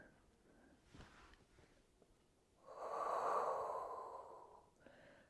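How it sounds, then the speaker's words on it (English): Steady breathing during a Pilates roll-back exercise at home, a quiet breath or two early on, then one long, louder exhale swelling and fading over a couple of seconds, close to the mic with no talk. "Inhale back. Exhale up."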